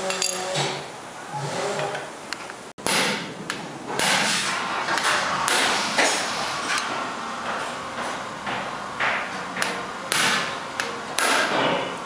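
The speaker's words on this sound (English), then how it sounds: "Use an impact hammer to remove the 2 screws and then slide the rotor off." Repeated sharp metallic blows from an impact hammer strike the brake rotor screws on a 2013 Hyundai Genesis Coupe during a Brembo brake upgrade, an uneven series of loud clanks in a garage.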